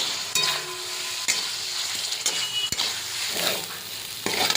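Fried taro chunks stir-fried into a curry for a vegetarian dalna, with a continuous loud sizzle broken by repeated scraping stirs of the spoon at irregular intervals, close up and without talk.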